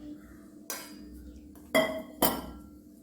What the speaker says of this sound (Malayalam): വെള്ളം ഒഴിച്ചൊന്ന് മിക്സ് ചെയ്തെടുക്കണം